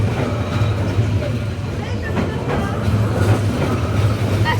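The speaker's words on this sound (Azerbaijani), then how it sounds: "Qatar gəldi." A train pulls in at a busy station in Vietnam, its low rumble and rail clatter filling a crowded platform where people talk close by.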